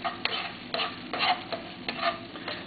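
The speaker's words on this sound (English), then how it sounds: "I'm just going to stir it through a bit." Shallots, garlic and ginger are stirred in a fry pan, with a few distinct scraping strokes against the pan spaced about half a second apart over a soft background sizzle, close and fairly quiet.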